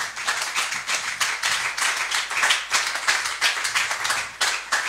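A church congregation applauds to acclaim the Lord, with a dense, rhythmic burst of many hands clapping close and steady and no voices on top.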